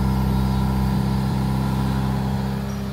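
A Toyota 86 GRMN engine with a suspected fault runs steadily close by, held at a raised speed as a mechanic revs it, a continuous loud drone with small throttle wavers and no talk.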